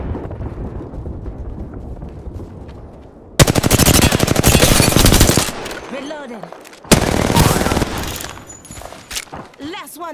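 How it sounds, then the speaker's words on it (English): Loud, rapid bursts of automatic gunfire in the video game Apex Legends, two long sustained volleys with short pauses and a lower rumbling ambience between them. "Firing on subjects."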